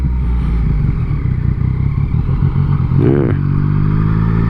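Yamaha MT-09 motorcycle engine heard while riding, a loud close throaty drone with a burst of rising revs near the end and a brief spoken word over it.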